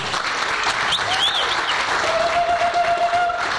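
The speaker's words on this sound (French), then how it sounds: "J'aimerais qu'on les applaudisse" An audience at an award ceremony claps for women, a dense, steady burst of applause from a full hall that fills the short moment, with a few faint whistles or cheers mixed in.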